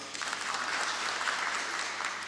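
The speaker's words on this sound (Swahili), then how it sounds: "pigeni makofi." A church congregation at PCEA Thogoto breaks into steady, dense applause, many hands clapping together at a constant level with a faint voice underneath.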